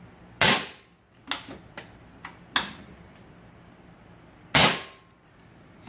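A Crosman Marauder PCP airgun fires without a hammer debouncer: sharp, loud shots at about 0.5 s and 4.6 s, each with a ringing tail, plus several smaller metallic clicks and ticks in between, with no talking.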